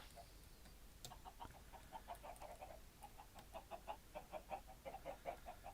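Chickens clucking in a modded Minecraft world, a run of short, rhythmic game clucks repeating steadily at a moderate distance over a faint background hum, with no talking.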